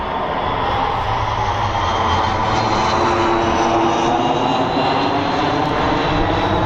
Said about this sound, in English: I gotta let this airplane pass